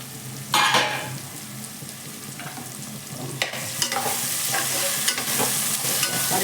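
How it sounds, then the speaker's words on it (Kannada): Vegetables for fried rice fry in a hot pan, a loud continuous sizzle near the mic with scraping stirs and occasional knocks of the spatula against the pan. "ತರಕಾರಿ ಇನ್ನೊಂದು ಸ್ವಲ್ಪ ಬೇಯಬೇಕು, ಚೆನ್ನಾಗಿ ಬೇಯ್ಕೊಂಡ್ಲಿ"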